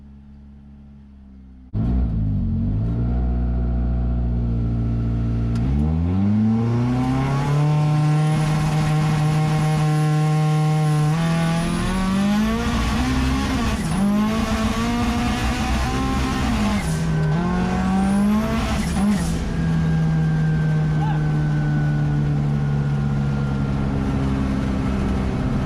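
Colt car engine with its rev-limiter safety turned off, starting up and revving hard in a long sustained roar with rising and falling pitch, loud and close, tire squeal mixed in, no talk.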